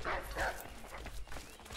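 Two quick dog barks in Assassin's Creed III open the moment, fairly close and faint, followed by muffled game sounds and murmuring.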